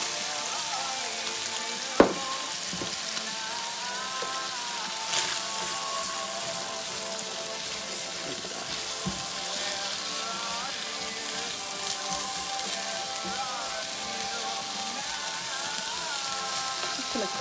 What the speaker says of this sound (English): toss all these lovely onions